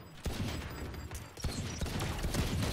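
Rapid gunfire from the video game Valorant, a sustained fusillade of dense, loud bursts with sharp onsets throughout, no speech.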